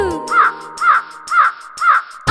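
A crow in a children's rhyme caws four times in an even rhythm. The harsh calls are loud and close, with short pauses between them.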